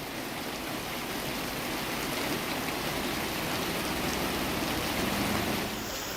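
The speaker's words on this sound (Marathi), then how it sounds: "सध्या रस्त्यावर रिमझिम पाऊस पडताना दिसतोय।" Light drizzle falls steadily on a road in Jalgaon during unseasonal rain, a soft continuous hiss of rain on the surface with no voices over it.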